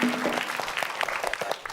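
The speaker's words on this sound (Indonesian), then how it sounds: "Beri tepuk tangan, yuk. Kasih semangat dulu." A studio audience at a quiz game show applauds a contestant team with steady, dense clapping from a mid-sized crowd, continuous and fairly loud throughout.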